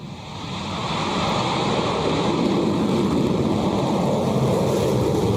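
Rocket Lab Electron rocket lifting off from the pad with the deluge system running, a steady, dense roar that swells over the first second and then holds loud and continuous, with no talk over it.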